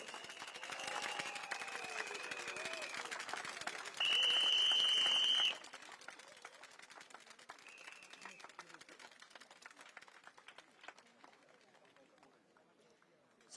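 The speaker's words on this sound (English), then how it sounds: "One more round of applause for the candidates" Audience applause for the candidates at a Progress Singapore Party rally at Catholic High School, a broad crowd clapping that fades gradually under a murmur, with a brief steady tone partway through.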